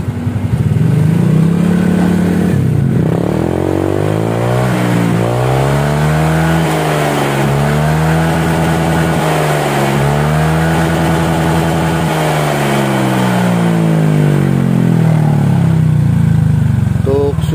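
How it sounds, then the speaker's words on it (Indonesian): A Honda Vario scooter fitted with a custom stock-style muffler revs hard to its limit, the loud close engine note rising and falling in repeated sweeping surges over a steady idle, with a voice talking now and then. "Untuk suara digeber sampai limit seperti itu"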